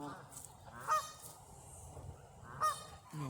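Canada geese at a park pond honk in a couple of short calls against a faint outdoor background, the honks moderately distant and quiet.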